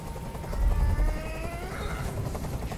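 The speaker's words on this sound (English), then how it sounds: "I can't stand that noise anymore. Tell that helicopter to get out of here!" A helicopter drones nearby with a steady low rumble and faint whining tones that slowly rise, no talking over it.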